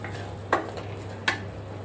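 Fried brinjal pieces go into a pan of spice masala for an Odisha-style dahi baigan, giving two sharp clinks of a utensil against the pan about three-quarters of a second apart over a low steady hum.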